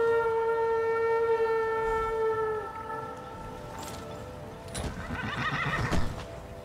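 A horse neighs in Skyrim Dragonborn with a long falling whinny over steady droning tones, then hoof clatter and busier game sounds toward the end.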